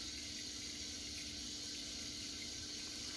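Cold water runs steadily from a tap as a washcloth is rinsed beneath it during a wet shave, a constant close hiss of flowing water with no voices.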